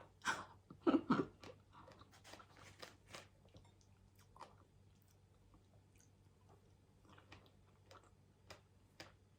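Someone eats fresh Swedish strawberries, giving soft close-up chewing and wet squishing bites, busiest near the start and then sparse, quiet clicks and munches with no talking.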